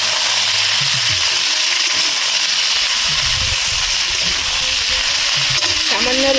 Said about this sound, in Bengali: এবার ভাবিয়ে রাখা টমেটোর গুঁড়ো দিয়ে দিচ্ছি। ভালো করে নেড়ে চেড়ে ভেজে নেব।